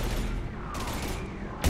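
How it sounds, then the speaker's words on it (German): Heavy gunfire in the Mass Effect 3 game, a dense low rumble of shots with a couple of sharper bursts and a loud hit at the end, moderately faint overall. "aber wir liegen unter schwerem Beschuss"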